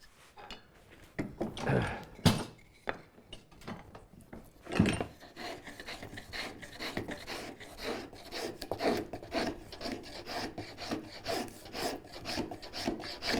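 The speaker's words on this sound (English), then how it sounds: "it can be the wood itself that you're Spokeshaving" A handmade spokeshave shaving wood, its rasping strokes scraping close and clear, first in a few separate pulls with pauses and then in a quicker continuous rhythm of short, dry cuts, with no talking.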